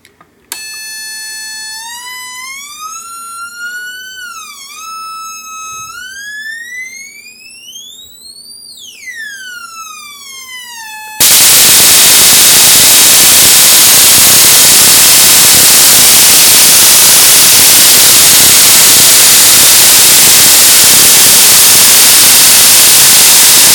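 An IGBT-driven X-ray transformer fires up with a loud, sweeping electronic whine that rises and falls in pitch, then abruptly gives way to a steady, harsh buzzing hiss that holds at full loudness.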